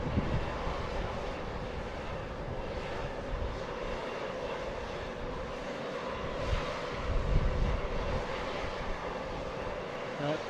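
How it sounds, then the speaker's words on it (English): A parked Learjet runs its engines about 100 feet away at an airport, a continuous broad roar at steady loudness with a brief swell midway. "Engine noise you hear is coming from this Learjet."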